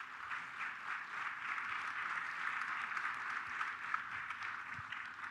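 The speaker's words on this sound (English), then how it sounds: "let's give him a round of applause and encourage him" Audience at a leadership and empowerment summit applauds a speaker, a steady, fairly faint wash of many hands clapping that holds evenly throughout.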